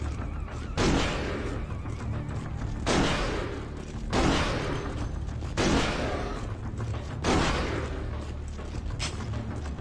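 Shotgun blasts in Vampire the Masquerade Bloodlines, five heavy booming shots spaced roughly every one to two seconds, each ringing out briefly before the next.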